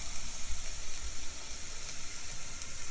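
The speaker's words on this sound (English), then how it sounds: "And then I add the minced garlic and keep mixing it." Minced garlic sizzles and fries steadily in a pan while being stirred, a continuous close hiss with no talking.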